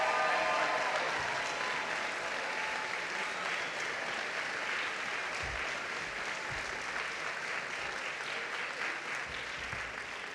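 Steady applause fills a hall at a Georgetown University commencement, dense and continuous from many hands, slowly easing in loudness over about ten seconds.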